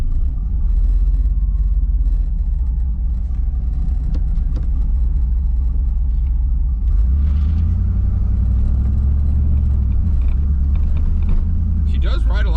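A 1985 Chevrolet Camaro Z28 drives down a bumpy street, its engine a loud, steady low rumble from inside the car with faint rattles, the pitch rising and shifting midway as it changes gear.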